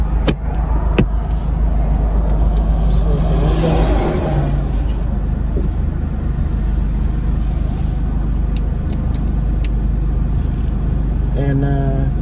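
A 2024 Ford Mustang convertible driving with the top down, its steady engine and road noise mixed with wind rumble throughout and a brief rise in revs partway through.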